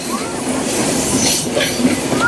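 The Chilahati Express train runs along the track in a steady, loud rumble of wheels and carriages, with faint wheel squeals rising briefly above the noise.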